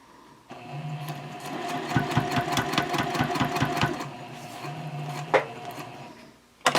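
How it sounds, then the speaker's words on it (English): A sewing machine basts along the edge of a backpack panel a quarter inch in, running in a steady rapid rhythm with brief pauses and restarts, close and moderately loud with no talk. "I'm just doing a basting about 1/4 of an inch away from the edge"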